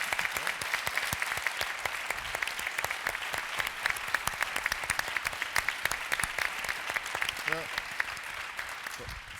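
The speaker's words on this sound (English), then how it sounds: "let's give another round of applause to our panelists" Sustained applause from a conference audience at a closing plenary session, dense steady clapping throughout with a brief spoken word near the start.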